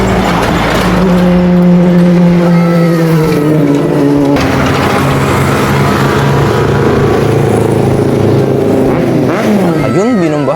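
A motorcycle passes along a rural road on a walk from Diadi to Cordon, its engine drone rising and sweeping past close by, then trailing off into steady outdoor background noise.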